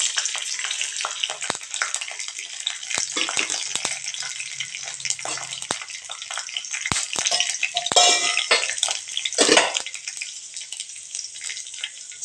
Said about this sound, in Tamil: இப்போ இந்த பூண்டை இதில் சேர்த்துக்கலாங்க எண்ணெயில்.